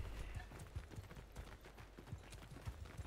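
Cavalry horses in a Bannerlord battle gallop in a steady drumming clatter of many hooves. The sound is faint and distant and continues without a break.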